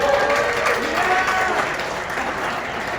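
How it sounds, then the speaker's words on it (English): Comedy club audience at the Laugh Factory applauding and cheering, a steady loud wash of clapping and crowd noise filling the whole stretch, with voices mixed in. "A round of applause"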